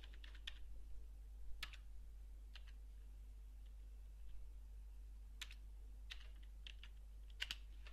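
Keystrokes on a computer keyboard as a part name is entered into a NexT 3.0 CNC control, with scattered light clicks in short irregular bursts over a steady low hum, quiet and close.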